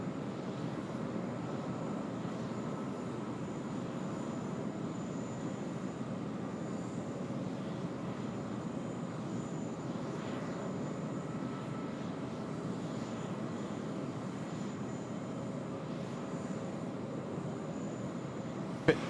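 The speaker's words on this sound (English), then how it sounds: "here we go, the Fiji A330 200 series" Fiji Airways Airbus A330-200 landing on runway 16 right at Sydney Airport, a steady distant jet engine roar that stays even throughout with no voices.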